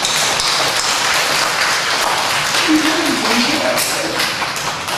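A church congregation applauds during a Sunday service, a dense, steady wash of clapping that fills the whole stretch, with a voice faintly audible under it.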